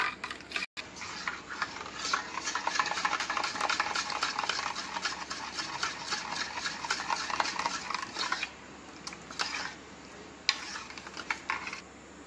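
A spoon stirs a milk powder mixture for kulfi, working out lumps: steady scraping and clinking against the vessel runs continuously for most of the stretch at moderate loudness, with no one speaking.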